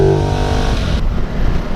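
A 2017 Ducati Multistrada 950 engine roars loudly and close, revving up with a steady, full-bodied drone that rises in pitch.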